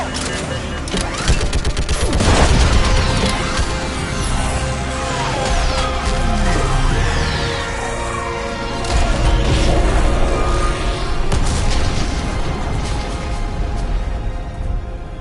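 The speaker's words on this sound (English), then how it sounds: "I need an orbital strike! We're clear! Fire at will!" Heavy barrage of orbital strike explosions and gunfire in Mass Effect 3 on Insanity difficulty, dense and continuous booms and crashes under battle noise with brief voices, loud throughout with a big surge early on.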